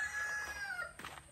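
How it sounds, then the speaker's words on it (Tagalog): Chickens being fed on a rural Filipino backyard farm, with a rooster crowing briefly and hens clucking nearby, a short burst of poultry calls over faint background noise. "So pakainin muna natin yung mga manok."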